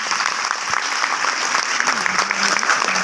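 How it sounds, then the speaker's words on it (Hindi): A crowd claps steadily and loudly throughout, an even wash of applause. "तो आप लोगों के लिए फिर से एक जोरदार तालियां"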